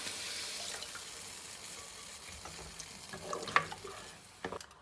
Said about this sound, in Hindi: अब इसके अंदर हम लोग हस्बे ज़रूरत पानी